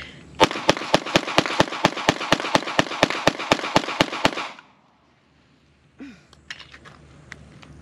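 A loud, rapid string of about eighteen evenly spaced gunshots from a Springfield Armory Echelon pistol ends abruptly, followed by quiet and then a few faint clinks and handling sounds.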